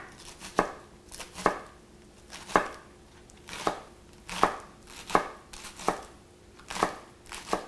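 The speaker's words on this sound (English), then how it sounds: "Now you can cut this thinly, or you can try to cut it at a diagonal." Knife slicing food thinly against a cutting board, about ten crisp, evenly spaced chops with soft scraping between them, close and fairly quiet, no talking.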